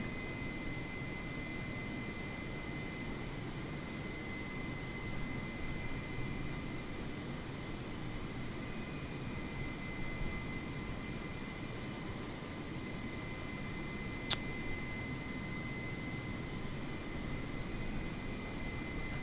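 Airbus A320neo jet engines hum steadily inside the cabin of an Air Canada flight, a constant low drone with a faint tonal whine running throughout, and one tiny click partway through, with no talking.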